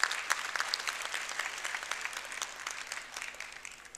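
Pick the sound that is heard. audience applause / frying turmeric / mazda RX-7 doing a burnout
audience applause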